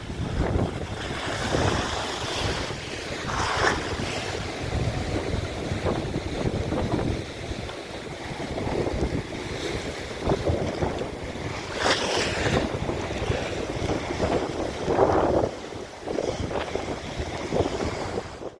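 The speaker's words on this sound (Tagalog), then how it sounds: "So wala tayong makukuha ngayong ano yan paninda kasi lakas ng alon no grabe" Heavy sea waves surge and crash continuously against a boat alongside gusty wind buffeting the microphone, loud and rough throughout with no voices.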